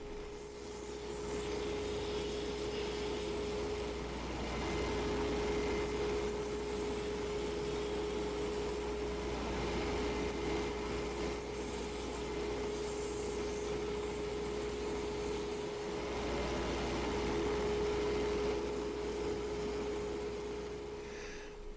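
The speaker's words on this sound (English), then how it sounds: "Now when I'm doing the sanding" Steady, continuous scratchy rasping of a wooden pen being sanded, a close, even rubbing texture with a faint constant hum underneath.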